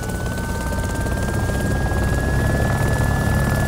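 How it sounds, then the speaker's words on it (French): Loud, steady helicopter rotor thumping and engine whine from the video game DayZ Epoch fill the whole stretch, close and continuous with no voices. "J'espère que ça fait pas trop de bruit l'hélicoptère."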